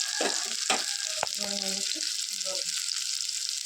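Tomatoes dropped into a sizzling curry in a hot pan, a close, steady hiss of frying with stirring and scraping clatter over it, and a voice heard faintly now and then.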